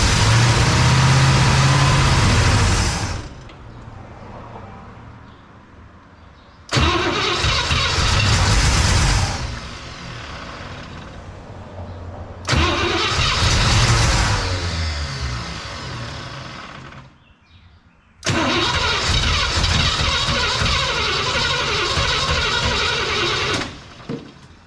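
A 1961 Cadillac engine cranks repeatedly without catching: four loud bursts of starter grinding, each a few seconds long, separated by quieter pauses, close to the microphone.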